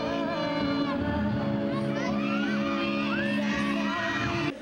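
A crowd of fans at a Kapuso mall show during the Araw ng Davao celebration cheers and shrieks, with high excited whoops and yells over music, loud and continuous.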